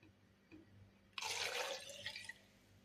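Water pours or splashes in one loud, steady burst lasting about a second, preceded by a faint drip, then tapers off; no one speaks.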